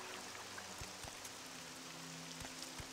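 Rain falling in the video game Morrowind, a soft, steady hiss of drops that holds evenly throughout, with a few faint low thuds beneath.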